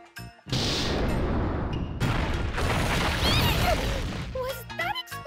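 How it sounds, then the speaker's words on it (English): A loud, sustained explosion in the video game Disgaea 7, a heavy booming crash that rolls on for several seconds before settling into crackling debris and a few sharp pops. "Was that explosion C4's doing?"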